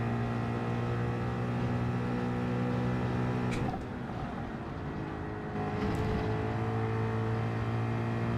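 Race car engines drone steadily in Gran Turismo 7 during a Group 3 daily race at Road Atlanta, with a sustained multi-tone hum that dips briefly midway before resuming at a constant level.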